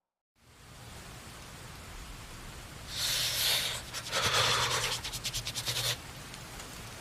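Rain falls as a horror-story sound effect on a cold night, a steady hissing wash that swells into heavier, pattering bursts midway before easing, with no talking.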